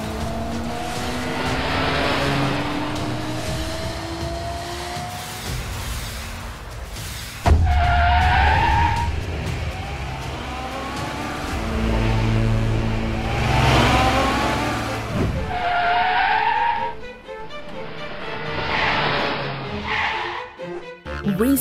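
Cartoon cars racing through city streets, with roaring, revving engines, squealing tires and skids passing close, plus a sharp impact and animated character voices shouting over the action.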